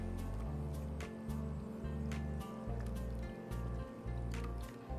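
Millet soup seasoned with salt and a pinch of turmeric is stirred in a pot, giving soft, wet squishing and sloshing in an irregular rhythm over a low, constant hum.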